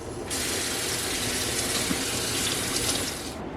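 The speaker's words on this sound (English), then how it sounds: "You have to turn the water on and actually get some pressure." Steady rush of kitchen tap water pouring into a sink, starting abruptly and running at an even level for a few seconds before stopping.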